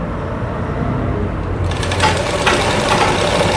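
A sewing machine runs close and loud, stitching a fabric hem on a puff sleeve in one continuous whirring run with no talk.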